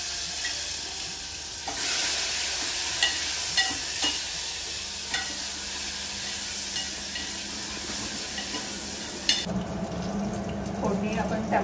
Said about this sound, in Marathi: फोडणी आपण टोमॅटो टाकलाय